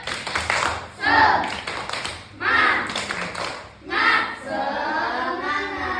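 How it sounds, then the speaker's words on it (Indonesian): Several bursts of children's rhythmic spirit clapping in short patterned phrases, with voices mixed in between, ending in a steadier stretch of sound. "Bang, tepuk semangat."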